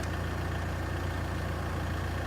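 A Kubota Grand L 4060 tractor engine runs at a steady low idle, a constant close, heavy drone throughout with no change in pitch and no talking.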